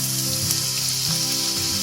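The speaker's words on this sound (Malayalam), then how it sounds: "ഇതിൻ്റെ അകത്തേക്ക് നമ്മൾ സവാളയും ഇഞ്ചിയും ഒക്കെ ചേർത്ത് വഴറ്റിയെടുക്കുകയാണ് ചെയ്യുന്നത്" Chopped onion sautés in hot coconut oil in a pan, giving a loud, close, continuous sizzle with faint crackles throughout.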